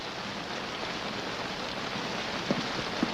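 Heavy rain falls steadily in a Wild West setting, a dense, even wash of noise with a couple of faint knocks near the end and no talking.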